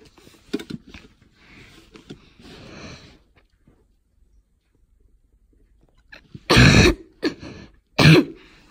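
A few soft sounds early, then a quiet gap, followed by harsh, loud throat clearing and coughing in several close bursts.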